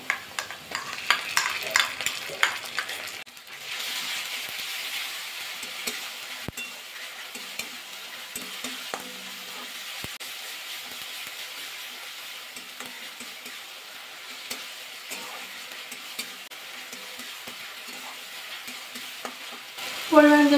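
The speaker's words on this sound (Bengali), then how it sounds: "এবার টমেটোটা বেটে রেখেছিলাম সেটা দিয়ে দেবো।" Ground tomato stirred into frying onions in a pan, giving a low steady sizzle with irregular scraping strokes of the spoon, busier at first, then calmer, up close.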